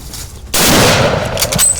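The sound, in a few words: rifle shot fired at elephant during hunt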